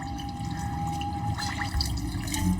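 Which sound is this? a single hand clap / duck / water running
water running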